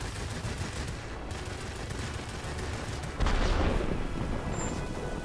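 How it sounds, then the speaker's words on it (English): Sustained broadband gunfire from aircraft guns strafing a ground target in the World of Warplanes game, flown in an F7F Tigercat; a steady dense roar that swells louder partway through, with no talk. "Let's do some strafing on this guy."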